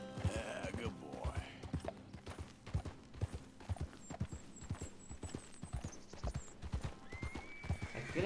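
Horse in the Red Dead Redemption 2 video game, clip-clopping steadily throughout with several close neighs and whinnies, some soft background mechanism noise, no talk.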